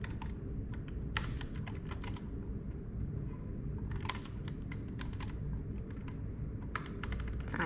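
Quick bursts of typing on an Omoton wireless computer keyboard, keys clicking in rapid clusters with short pauses, close and fairly quiet over a low background hum.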